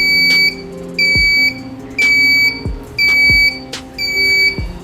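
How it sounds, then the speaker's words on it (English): Loud electronic beeping from an Arduino parking-lot buzzer in repeated bursts of about half a second, steady and shrill, with brief gaps between, and a low hum underneath. "It starts beeping"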